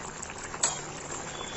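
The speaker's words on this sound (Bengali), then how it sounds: "আর এই জলেই লাউটা সিদ্ধ হয়ে যাবে।" Bottle gourd simmers in its own released liquid for a Bengali lau sukto, giving a soft, steady bubbling hiss with one brief louder pop midway, heard alone without voices.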